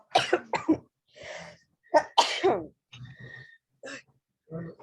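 A woman sneezes and coughs during a Zoom lecture on inheritance law, several sharp nearby bursts separated by pauses, with faint quieter sounds between them.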